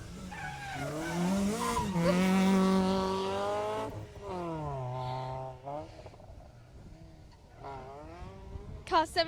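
A rally car at the 2018 Jersey Rally roars past on a stage, engine pitch rising and falling through several gear changes as it approaches and recedes, loud and close.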